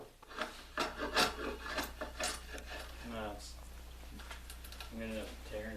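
Draw knife shaving an oak or cherry canoe paddle by hand, giving repeated close, rasping scrape strokes that are loud at first and then ease off, with a voice talking over the later part.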